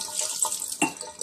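Uncongealed milk from a rennin test poured through a strainer, a close liquid trickle and splashy gurgle with a couple of brief drips and splashes, no speech.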